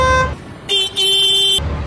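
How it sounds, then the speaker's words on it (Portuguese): A Volvo VNL 860 truck horn honks at a fuel stop, one short blast followed by a longer held blast, loud and near, with quiet idle surroundings before and after. "ó, fizemos buzinar, ó."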